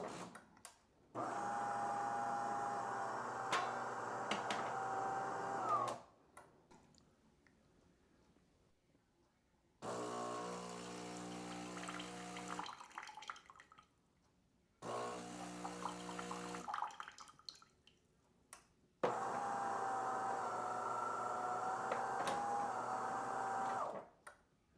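A Delonghi espresso machine runs in steady, loud stretches of pump hum while dispensing hot water, stopping and restarting several times with short quiet gaps between, no talk.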